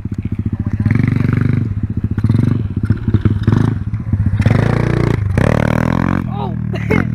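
A motorcycle ridden hard with small wheelies, its engine revving in pulsing bursts and rising and falling up close while people talk loudly over it.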